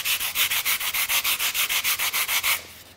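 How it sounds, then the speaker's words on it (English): Sandpaper wrapped around a foam block rubs back and forth on a wooden spar for a small sailboat, about a dozen quick, even, close strokes that stop abruptly. "So what I want to do is sand it."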